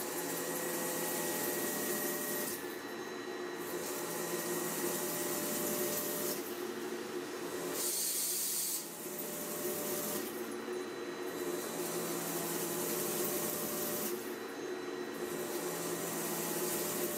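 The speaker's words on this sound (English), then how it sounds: "The dry cutting process on the Klingenberg C29 machine begins with the preparation of the gear blank." Klingenberg C29 gear-cutting machine dry cutting gear blanks in a factory: a continuous, fairly loud grinding hiss, with rhythmic swells and dips roughly every few seconds as the cutter passes.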